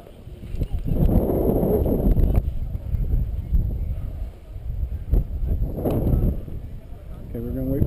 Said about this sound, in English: we're going to wait for this little bit of stronger wind to go by